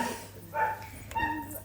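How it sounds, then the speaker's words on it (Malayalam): A pet dog let loose outside a home barks twice in quick succession, short and fairly close, in an otherwise quiet setting. "നന്നായിട്ട് കുരയ്ക്കുന്നുണ്ടേ"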